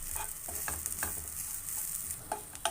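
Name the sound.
roasting grated coconut in a pan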